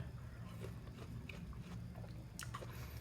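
Someone chews crunchy flesh of a Japanese Haruki melon close to the microphone, giving a few soft, moist crunches and bites over a low background hum, with no talking.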